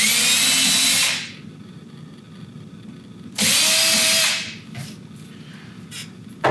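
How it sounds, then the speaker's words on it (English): A power drill pre-drills holes in a wood wall with two loud, close bursts of whirring, each lasting about a second, separated by a pause and followed by a quieter trailing sound. "on a wood wall, you're gonna pre-drill usually."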